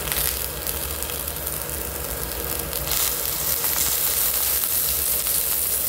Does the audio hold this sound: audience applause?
no